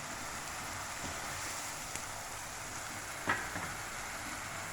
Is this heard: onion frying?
yes